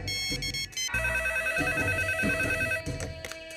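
A telephone rings repeatedly in a noisy setting, bright electronic ring tones in short bursts layered over a loud, busy background.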